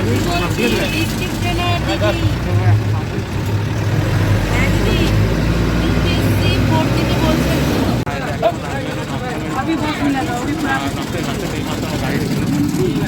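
Steady low engine rumble inside a moving bus, continuous throughout with broadband road and cabin noise; people talk over it.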